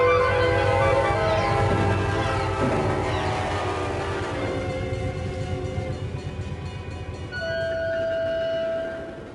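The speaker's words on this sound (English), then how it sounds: "The train was coming closer. I could hear its bell, its cry, its whistle crying." An approaching train rumbles close by with a loud, sustained horn, bell and whistle, fading into lingering whistle tones as it passes.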